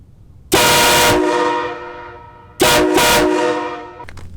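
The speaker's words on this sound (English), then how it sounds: "I went with the train horn setup on this truck" A Nathan K5LA train horn mounted on a lifted Chevy Duramax truck blasts twice, each a loud, close, chord-like multi-tone blare. The first lasts about two seconds and the second is shorter, and both fade slightly as they sustain.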